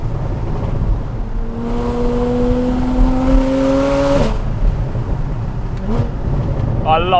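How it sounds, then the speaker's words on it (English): A loud, deep sports car exhaust with its valves open revs and holds a rising drone for a few seconds, then drops off into idle rumble with brief blips. "I love this exhaust."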